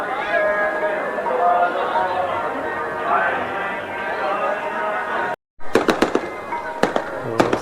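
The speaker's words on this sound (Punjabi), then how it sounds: "ਆਤਿਸ਼ਬਾਜ਼ੀ ਜਿਹੜੀ ਉਹ ਸ਼ੁਰੂ ਹੋ ਚੁੱਕੀ ਆ ਗੁਰਦੁਆਰਾ ਸਾਹਿਬ ਵਿਖੇ" A whistling, droning background gives way to a rapid series of sharp fireworks bangs and crackles at night at Gurdwara Ber Sahib, Sultanpur Lodhi, during Gurpurab, with crowd noise around them.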